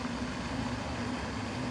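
Continuous street traffic noise heard from right beside the road, a steady broadband rumble with a low engine hum, moderately loud and unbroken, with no voices.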